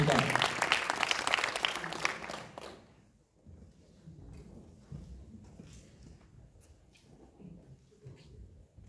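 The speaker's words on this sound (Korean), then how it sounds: "다시 한번 뜨거운 박수 보내주십시오." Warm audience applause greets a lecturer stepping onto the stage at a public lecture, a loud burst of clapping for nearly three seconds with a voice over it, then it stops and a quiet room murmur follows.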